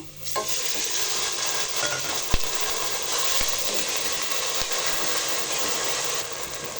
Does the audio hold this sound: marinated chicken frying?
yes